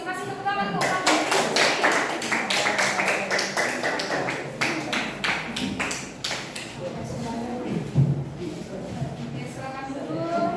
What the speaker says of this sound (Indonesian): Kasih tepuk tangan untuk kelompok B2C.